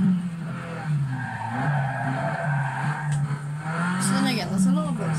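Racing video game car driving around with tyre skids and engine noise running steadily under continuous talk, with brief squeals toward the end.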